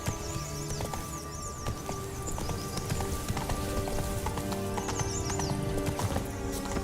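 A horse gallops in The Witcher 3 game, with rapid rhythmic hoof clatter and a whinny over busy in-game ambience of music and surroundings, steady and moderately loud throughout.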